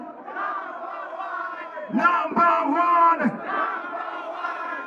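A large crowd at a music festival roars and shouts together, loud and sustained, swelling louder in the middle before settling back to a steady din.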